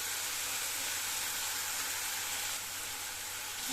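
Ginger garlic paste sautéing with onions in a pan for a green peas fry, giving a steady, even sizzle that holds throughout with no talk over it.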